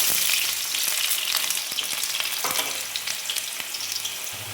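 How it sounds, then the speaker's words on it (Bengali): Potato slices frying in hot mustard oil in a wok, a steady close sizzle with occasional crackles and faint utensil taps, no voices. "সেটা তেলে ভেজে নেব আমি।"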